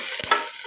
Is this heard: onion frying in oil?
yes